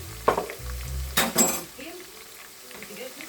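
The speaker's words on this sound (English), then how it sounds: "So now I'm adding the pesto." Pesto is spooned into a hot pan of pork steaks; a spoon clinks against the metal, then a brief loud hiss flares and fades back to a low sizzle.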